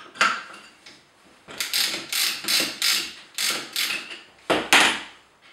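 A bit being removed from a Festool OF1400 router, heard as a series of close, rhythmic mechanical clicks and ratcheting turns, about ten in quick succession, with no talk.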